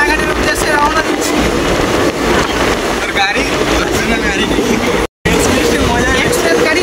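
An express train pulls away from a platform and runs along the rails toward Ranaghat Junction, a continuous rumble and rattle heard from inside the carriage, with passengers talking over it and one brief dropout.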